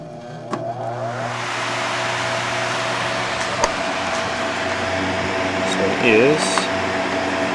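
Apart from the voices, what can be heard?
homemade box fan motor running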